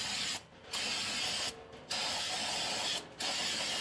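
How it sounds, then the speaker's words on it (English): A chemical spray is sprayed down onto parts outdoors on a chilly, dreary day in three long, loud hissing bursts separated by short pauses, close up with no talking. "for the heck of it, going to spray it down a little bit"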